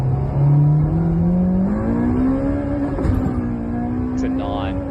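A car engine in Space Engineers revs upward with VTEC engaging, its rising whining tone climbing steadily over a few seconds, loud and close, with a voice talking over it.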